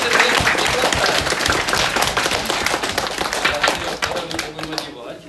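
A crowd at a chess qualification tournament in Dnipro applauds with dense, crackling clapping that carries on steadily and gradually thins toward the end.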